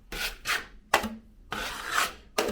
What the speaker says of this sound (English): feather my edges by putting the pressure on the outside of my knife